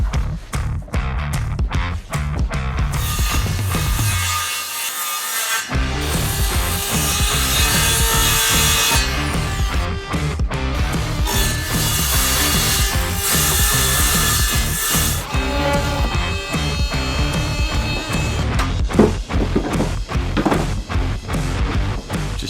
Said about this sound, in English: putting a couple of blocks of wood to raise the saw up so I can just run it along like that